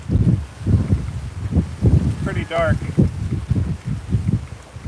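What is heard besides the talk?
wind on the Lake Michigan shore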